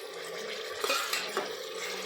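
Onion and curry leaves being sautéed in a pan for veg pulao, a soft continuous sizzle with occasional scrapes and taps of a stirring spoon against the pan.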